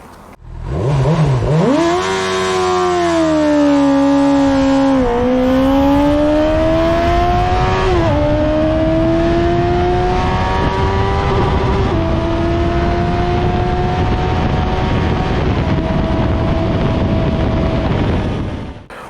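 A Honda CB 1000 R motorcycle engine revs up loudly and then climbs through several gear shifts in a long, rising drone, close and dominant throughout.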